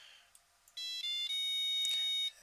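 A HiTec RDX1 battery charger beeps as it starts charging an 18650 cell: one short chirp, then a long steady electronic tone with a brief break, heard close and alone.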